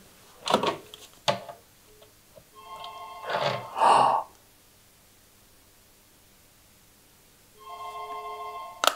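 Old wall-mounted telephone in the kitchen of an abandoned, fully furnished spa hotel with working power, ringing in two short bursts early on, then a longer electronic ring later, moderately loud in a quiet room.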